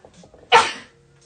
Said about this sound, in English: Oh, sneezing again.